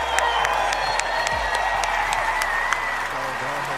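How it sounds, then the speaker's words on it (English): A packed arena crowd at a Fortnite FNCS global championship applauds and cheers for the winners on stage, a dense, continuous roar of clapping and shouts with an announcer's voice carrying over it. "Royal Arena, make some noise for your global champions, Mero&Cooper"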